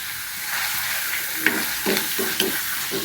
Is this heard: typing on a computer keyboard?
no